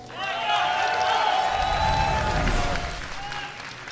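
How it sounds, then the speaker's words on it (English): Crowd at a StarCraft 2 tournament, the IPL 5 event, applauding and cheering for a Terran player, a sustained roar of clapping heard under a commentator's voice throughout. "A lot of Polt supporters in the crowd"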